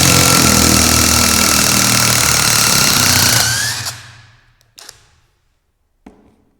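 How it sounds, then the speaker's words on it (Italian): A POPOMAN 18V brushless impact driver hammers loudly and steadily while unscrewing a tight screw, its rattling burst running about four seconds before winding down, followed by a couple of faint knocks and taps. "questo tipo di avvitatore si sfrutta quando si deve svitare una vite che sia troppo"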